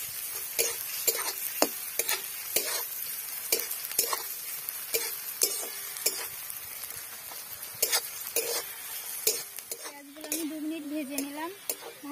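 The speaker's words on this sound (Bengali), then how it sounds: "আমি হালকা করে ভেজে নিচ্ছি।" Soybean chunks and potatoes fry lightly in a pan with a gentle sizzle, while a utensil clicks and scrapes against the pan in frequent stirring strokes, and a voice briefly hums near the end.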